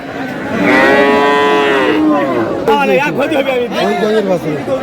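Cow mooing loudly and close at a busy cattle market, several long drawn-out lowing calls, with people chattering underneath.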